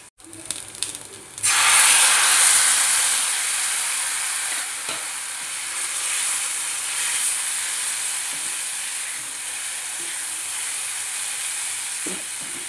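Mashed pointed gourd hits hot oil with fried onions and bursts into a loud, sudden sizzle that settles into a steady hiss, after a few clinks of the pan and spoon.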